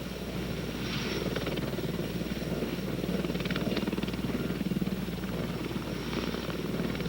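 A CH-54 heavy-lift helicopter gives a continuous loud rotor drone with rhythmic blade chop and a low engine hum, steady throughout, no voices.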